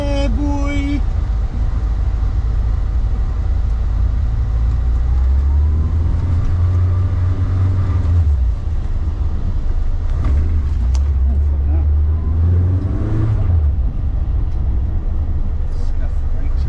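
A Renault R8 with a swapped 1397cc engine drones loudly throughout, rising and falling in pitch as it accelerates and shifts, with a voice talking over it at times.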